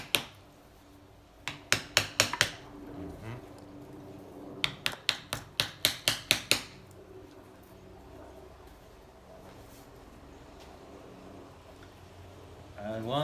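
Hammer blows driving a piston down on a 1984 Honda C70 Cub engine against a wooden block, heard as two quick bursts of about five sharp knocks each, close and loud, with quiet shop ambience between.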